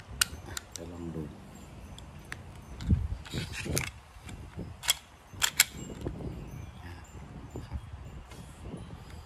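Modified trigger and trigger bar of a Glock 17 BB pistol dry-fired with no ammunition, giving a series of sharp mechanical clicks and snaps scattered irregularly, close and fairly quiet, with a voice speaking around them.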